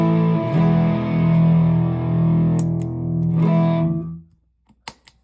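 A heavily distorted electric guitar chord through a Fulltone Full Drive 2 overdrive pedal rings out thick, buzzy and slightly smoky, sustains for about four seconds, then cuts off, followed by a few faint clicks.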